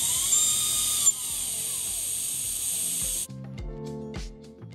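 A high-frequency oil/air lubricated spindle whines loudly at a steady high pitch, with a brief dip partway through, then cuts off abruptly, leaving quieter mechanical clicks and hum.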